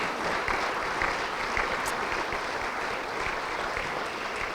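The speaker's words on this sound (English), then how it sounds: "So why don't we give them another round of applause." Steady applause from an audience at a partnership celebration, many hands clapping in a continuous, moderately loud wash with no voices standing out.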